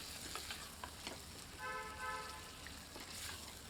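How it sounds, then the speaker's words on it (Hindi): Chicken frying in hot oil over high heat for a Dhaba-style smoky chicken curry, a steady broadband sizzle with occasional stirring scrapes and faint tonal clinks, no talking. "इसे गर्म तेल में 2 मिनट अच्छी तरह भूनते हैं।"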